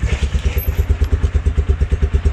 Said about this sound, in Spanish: Y aquí ya me trepé a la moto,